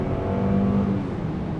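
A 2019 Range Rover P400e Autobiography's four-cylinder engine accelerates, close and subdued, as a steady smooth drone with a brief rising whir.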